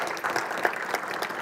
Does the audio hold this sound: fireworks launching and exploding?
no